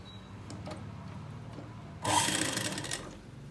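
A sewing machine stitches a run and fell seam on a lungi, its motor whirring in a loud, steady burst that starts partway through and runs for over a second before easing off.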